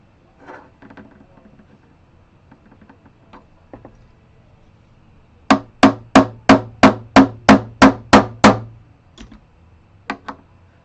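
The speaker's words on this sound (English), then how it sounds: "this is a brass hammer. It's softer than the frets, so it doesn't dent the frets, it dents the hammer" A brass hammer taps the frets of a Fender acoustic guitar in a quick, even run of about ten sharp, ringing strikes, preceded and followed by a few lighter scattered knocks.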